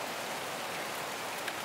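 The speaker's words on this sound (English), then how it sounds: "it's hard to tell that's actually rain just by looking. But as long as you can hear it, you know it's there." Steady rain pattering on a small outdoor trampoline covered in leaves, a dense, even hiss of drops close by with no talking.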